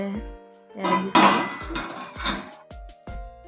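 Metal spoon stirring matar paneer in a cooking pot, scraping and clinking against the sides in several close, loud strokes with short pauses between them, no talking.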